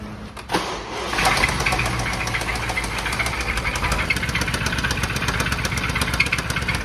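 BMW 750Li xDrive with an engine warning fault cranks with a brief starter whir, catches, then settles into a loud, rough idle with a persistent knocking rattle, close and steady, no voices.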